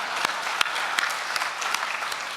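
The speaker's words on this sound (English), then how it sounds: "so you should clap for the born again." Steady clapping from the audience at a blockchain conference, a close, even round of applause with a few sharper individual claps standing out.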